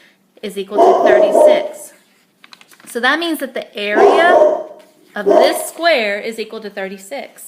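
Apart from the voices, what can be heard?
dog barking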